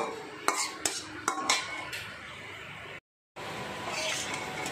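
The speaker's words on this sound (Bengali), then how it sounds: "দিয়ে একটু ভালো করে নাড়ানাড়ি করে নিচ্ছি" Spoon scraping and clinking against a metal pan while white and black cumin seeds are stirred in hot oil, a few sharp knocks early, then a steady low sizzle and rustle, briefly cut out midway.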